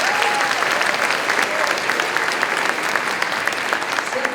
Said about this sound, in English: Let's give each of these a round of applause as I call them.